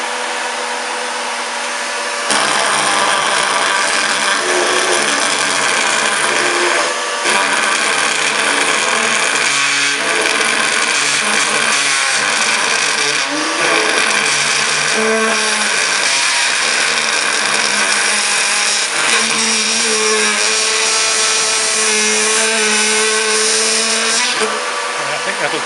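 A vacuum cleaner roars loudly and steadily for a long stretch, and its pitch wavers as the hose opening is changed. Faint voices can be heard under the motor noise.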